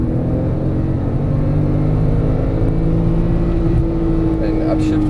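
Porsche 911 Turbo S engine pulling on throttle out of a tight right-hand hairpin, a steady loud engine drone with rising harmonics running under a man's driving instructions.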